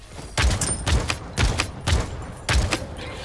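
Golden sniper rifle shots in Realm Royale, five heavy booming reports spaced roughly half a second apart, each with a short crackling tail, loud and close with no talking.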